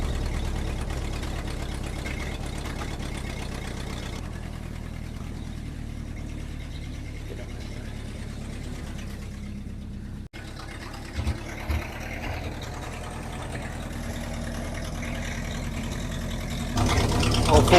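A Ford 800 dump truck engine idling with a low steady rumble throughout, under occasional voices and a few knocks near the end.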